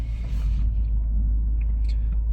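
A car idling with a steady low engine rumble while it parks itself automatically, close and continuous through the short stretch, with light brake and cabin sounds and no clear talk.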